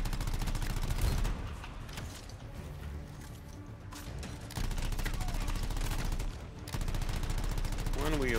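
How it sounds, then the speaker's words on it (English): Rapid automatic gunfire from the video game Anthem rattles in loud bursts, broken by brief pauses, while a voice talks over the shooting. "Who is shooting at me?"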